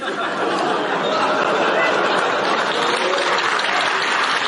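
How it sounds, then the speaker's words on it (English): Dense, sustained applause from a room audience reacting to a remark about a vice president, with laughter and chatter blended into the steady roar, loud and continuous. "Good applause line, laughter there in the room."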